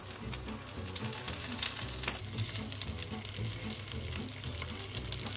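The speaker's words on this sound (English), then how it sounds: "Generously coat your pan in some oil, and once that heats up, we will start frying our tofu." Tofu frying in a generously oiled pan, giving a steady, dense sizzle that holds at a constant moderate level throughout with no talk.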